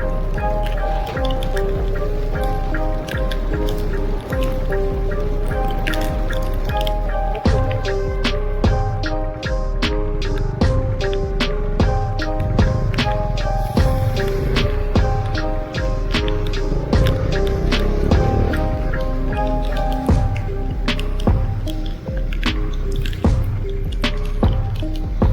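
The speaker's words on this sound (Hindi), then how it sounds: "तेज बारिश।" Heavy rain pours during a motorbike trip from Firozpur, Punjab, to Delhi. Dense, steady dripping and splashing continues throughout at a constant loudness, with a faint tonal hum underneath.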